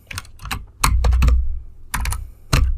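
Bursts of keystrokes on a computer keyboard during a Hindi HTML web design lesson, with several quick clustered taps separated by short pauses, close and clear with no talking.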